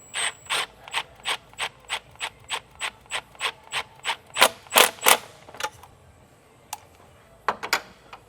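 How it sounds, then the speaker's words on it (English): Ratchet tightening an 11 mm T-bolt during a supercharger install on a Nissan 370Z, a steady run of about a dozen close, crisp clicks, then a few heavier clacks and scattered ticks. "Let's grab our 10 mil, or no, 11 mil, and tighten that T-bolt."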